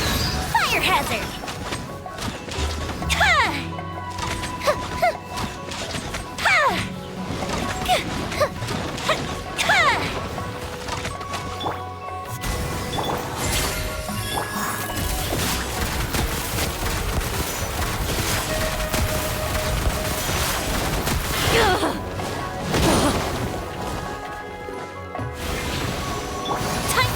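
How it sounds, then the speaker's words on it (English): Repeated firework-like blasts, crashes and crackling bursts fill a Genshin Impact fight, with rapid explosions under frequent in-game character voices. "Here come the fireworks!"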